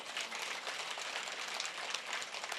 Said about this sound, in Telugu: మరి వేయాలంటే చప్పట్లు కొట్టరే?